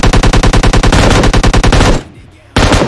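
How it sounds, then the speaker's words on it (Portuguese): Loud, rapid Free Fire or PUBG mobile game gunfire rattles in a steady automatic burst, pauses briefly, then resumes; punchy and close, like game weapon effects. "Se eu clicar no botão normal ele vai atirar."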